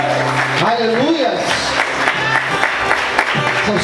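A church congregation applauds during a Portuguese-language morning service, with broad, sustained clapping and crowd noise mixed with voices and sung tones throughout.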